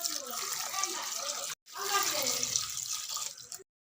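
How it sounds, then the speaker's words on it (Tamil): Tap water pours steadily into a cooking pot for boiling tapioca, a continuous splashing rush that breaks off briefly, resumes, then stops. "அதுக்கு 3/4 லிட்டர் தண்ணி ஊற்றணும்."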